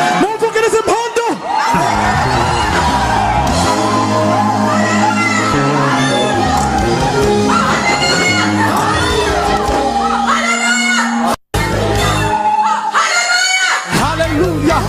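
A crowd at a worship concert erupts in loud, sustained ululation and whooping over music, the high trilling cries layered and continuous before a brief drop near the end.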